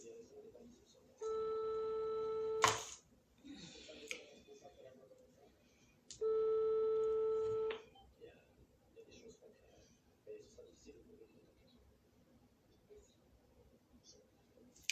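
An incoming call rings a phone twice in steady electronic tones, each burst about one and a half seconds long, fairly loud and close, with speech and handling noises around them.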